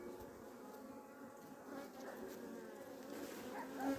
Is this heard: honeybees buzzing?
yes